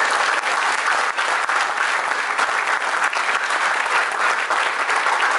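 A crowd at a network marketing seminar gives loud, continuous applause that stays steady and full from start to finish.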